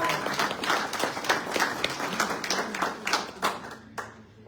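An audience at a book presentation event applauds, steady clapping from a modest crowd at moderate distance that thins out and stops near the end.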